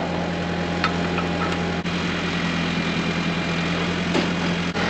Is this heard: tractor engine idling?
yes